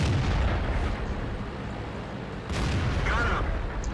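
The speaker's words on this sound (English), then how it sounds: "something is firing at a high rate through here" Rapid tank cannon fire and explosions from a World of Tanks battle involving a Soviet KV-1 tier V heavy tank form a loud, dense barrage of booms that continues throughout.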